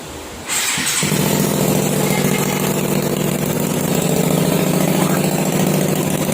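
A Rusi RS 150 motorcycle engine catches after a brief crank and settles into a loud, steady, rumbling idle close by.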